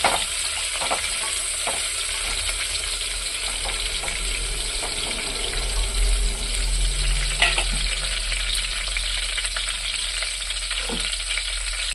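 Chopped onion sautéing in a pan for a vegetarian parotta salna gives a steady, close sizzle and crackle, with occasional stirring clinks and scrapes throughout.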